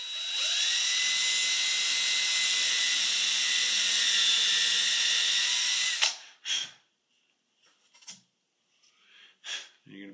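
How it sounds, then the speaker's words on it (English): A power drill bores a hole into the wood of an 1840s-style Martin & Coupa guitar, a loud, steady high whine for about six seconds that stops abruptly, followed by a few soft handling clicks and brief rustles in quiet. "Be careful, go ahead and drill your hole."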